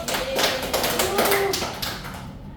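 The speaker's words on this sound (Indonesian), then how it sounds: "Boleh tepuk tangan dulu." Students in a classroom clap together on cue, a short burst of brisk hand claps that rises quickly and fades within about two seconds, with a few faint voices mixed in.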